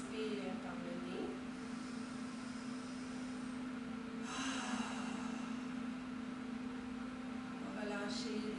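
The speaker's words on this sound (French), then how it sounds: "On inspire par le nez." During a gentle yoga session, someone takes a quiet breath in through the nose, one soft airy inhale near the middle against a faint steady background hum.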